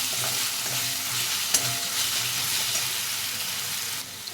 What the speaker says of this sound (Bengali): আদা রসুন এখানে ভাজা হয়ে গেছে ভালো করে